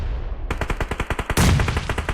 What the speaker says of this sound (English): Sana goes down, and so does Destro by DBS shot